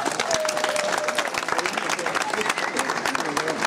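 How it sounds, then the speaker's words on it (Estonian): An audience breaks into hearty applause, a dense run of overlapping claps with a few distinct sharp hands up close and faint crowd murmur beneath. "Nii et teeme suure aplausi Richardile."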